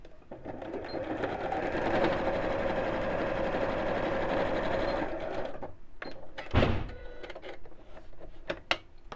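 A sewing machine runs in a steady, fast stitching burst for several seconds while sewing along drawn lines on fabric, then stops, followed by a few clicks and knocks.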